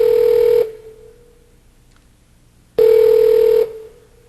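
Two long steady telephone tones, the first cutting off after about half a second and the second sounding for nearly a second after a quiet gap, as a call is placed on a Windows Longhorn communications system, loud and clean.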